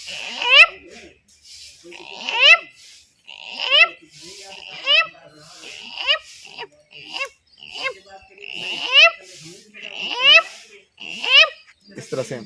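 A voice imitates a snake catching a frog: a repeated cycle of about seven squeaky, rising and falling croaks with hissy breath between them, steady and close.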